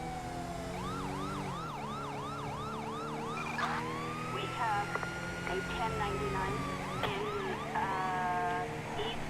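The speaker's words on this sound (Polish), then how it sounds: "Włączmy sygnały. Sygnały włączamy tak, jakbyśmy chcieli kogoś trąbić." A police car siren in GTA V wails through the game, first in a rapid yelping sweep, then a long rising tone and faster warbles, loud and steady over engine noise with brief horn-like blips.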